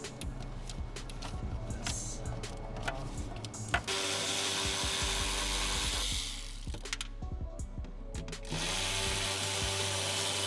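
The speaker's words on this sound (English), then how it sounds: "Looks like there's only 3 studs I need to take out. So let's go ahead and take those out." Studs being unscrewed from a Honda Beat tail light with a ratchet, rapid clicking pawl runs in several bursts near the mic, separated by pauses and handling clatter.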